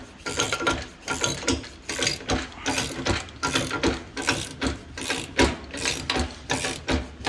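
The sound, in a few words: ratcheting crimper tightening an AC hose fitting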